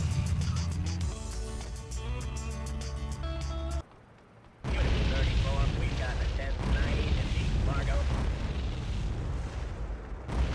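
Explosions in GTA 2 rendered in 3D roar as a dense, sustained blast, broken by a brief near-silent gap before another heavy rumbling burst carries on, loud and close, with a person talking through it.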